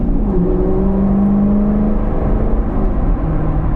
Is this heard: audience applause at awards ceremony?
no